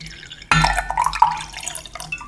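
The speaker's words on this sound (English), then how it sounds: "I'm going to pour a little bit more just so you can see it" Tea poured into a glass, a sudden start followed by close, trickling and dripping liquid sounds with small glassy splashes, quiet and alone.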